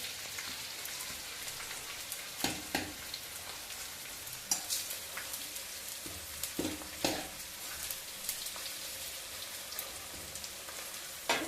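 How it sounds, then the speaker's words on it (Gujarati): Edible gum (gond) fries in hot ghee, a dense, steady sizzle and crackle with scattered sharper pops and spatters, close up and moderately quiet, with no talk. "ગુંદને તારી લઈએ।"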